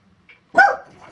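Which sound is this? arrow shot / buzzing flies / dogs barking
dogs barking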